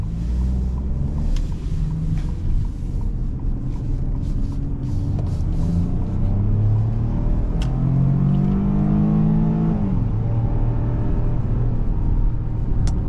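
A 2024 Ford Escape ST Line pulls away under steady acceleration, with engine tone rising in pitch through the gears and a constant loud cabin rumble with road noise throughout, no talking.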